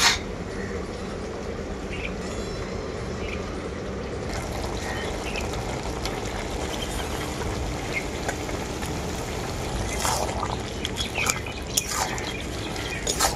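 Fried fish heads drop into boiling broth for an amaranth-stem greens curry, giving steady bubbling and simmering with sharper splashes and stirring bursts toward the end; no one speaks.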